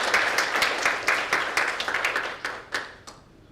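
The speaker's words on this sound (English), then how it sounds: "Let's give our panelists a round of applause." Audience applause for a journalism panel at the close of an evening program, a dense burst of clapping that peaks early and then thins out and fades toward the end.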